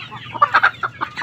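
A pet chicken gives a quick series of short, close clucks in about one second.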